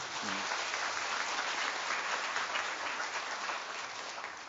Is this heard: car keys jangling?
no